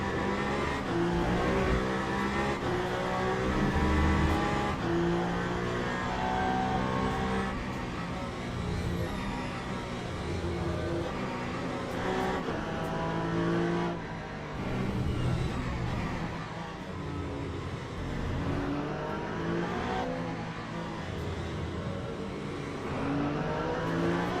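Porsche race car engine in Le Mans Ultimate at Interlagos, a sustained harmonic whine rising and falling through gear changes, loud and continuous with no talk over it.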